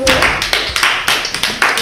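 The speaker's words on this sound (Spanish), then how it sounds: "ya iba a pedir que os habéis adelantado un buen aplauso para la anfitriona" An audience applauds the host of a poetry gathering in Gandia, with bright, rapid claps close by and a voice speaking over them.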